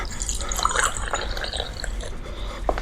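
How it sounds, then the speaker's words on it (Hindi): Water is poured for drinking in a dramatized home scene. Close, irregular liquid splashes and drips continue steadily throughout with no voices. "पानी पी अज्जू, होश में आ, पानी पी।"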